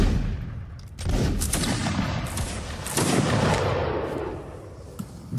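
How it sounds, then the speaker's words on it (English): Musket volleys crackle in a Napoleonic line battle video game, with two dense waves of overlapping shots around the one- and three-second marks that roll on as sustained, loud fusillades and fade near the end. "Fire at the enemy line."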